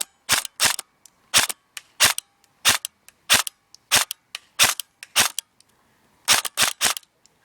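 Upgraded airsoft gun firing on semi-automatic, loud close sharp snapping shots, about twenty in steady single and double pulls with a short pause before a final quick burst.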